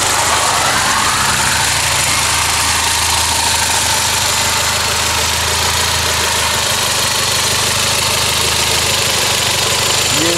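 A Toyota Celica GT-Four ST205 engine idles in the engine bay with a steady, close, mid-pitched hum and a faint vibration, constant and unbroken throughout with no talking.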